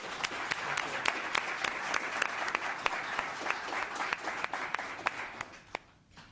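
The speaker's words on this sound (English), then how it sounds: "Let's give him a round of applause." A round of applause breaks out at a town council meeting, a full crowd of hands clapping steadily and briskly with distinct louder claps, then quickly dying away at the end.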